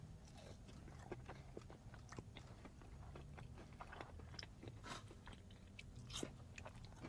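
Crunchy fried food from Raising Cane's bitten and chewed up close, with repeated crisp crunches over a steady low background.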